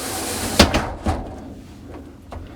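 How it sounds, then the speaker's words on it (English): A rolling fiberglass shower door in a travel trailer slides and knocks, giving a few sharp clacks and bumps close by, followed by softer rattling taps as it settles. "And we have a rolling shower door,"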